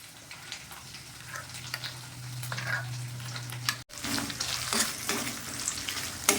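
Ginger paste frying in a pan over low gas, a steady close sizzle with crackling pops and occasional stirring scrapes and clatters.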